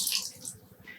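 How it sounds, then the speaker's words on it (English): Soaked yarn squeezed by hand over a pan during home dyeing, a brief wet trickle and splash of water falling, soft and close, with no voices. "I'm squeezing out some of the water to not make a mess."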